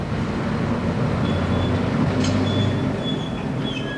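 A 1969 British freight train rumbles past steadily at close range, with the low roar of wagons and occasional high metallic wheel squeals.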